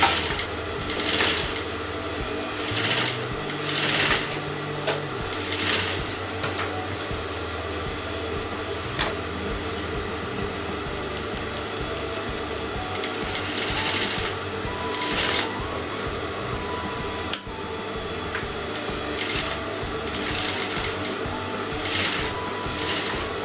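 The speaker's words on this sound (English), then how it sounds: "So now I'm going to sew to the outer edge of the neckline." A sewing machine stitches along the outer neckline edge of a canvas garment, its needle whirring in short, steady runs broken by pauses, close and moderately loud.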